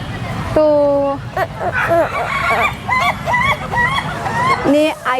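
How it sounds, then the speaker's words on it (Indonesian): Ayam ketawa laughing chickens at a rooster contest give repeated choppy, cackling crow calls in rapid bursts, close and loud amid crowd chatter and people speaking. "Ini ayam berkekek."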